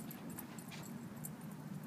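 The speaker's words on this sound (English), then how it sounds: "His dog's all over, running around" At a dog park, dogs move about in the distance, with faint whimpers, light yips and jingling tags over a soft, steady outdoor background, all quiet and far off.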